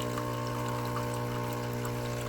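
A Kenmore KKSACM-B super automatic coffee machine rinses its hose with warm water, a steady pumping hum with tonal whine and a continuous pouring trickle, close and unbroken.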